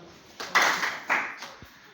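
Brief scattered applause from a group of school students on a library visit in Owerri, Imo, two or three short bursts of claps at moderate distance, fading quickly.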